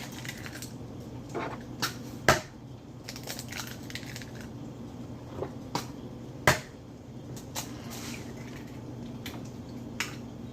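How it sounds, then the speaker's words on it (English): Eggs are cracked into a well of flour on a wooden board, giving a few sharp taps and cracks scattered over a low steady hum, with two louder knocks standing out. "I'm gonna crack some eggs in it"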